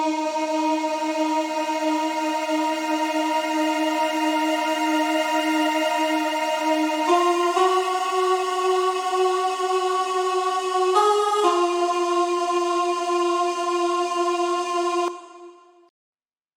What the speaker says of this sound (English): The choir section sounds like this.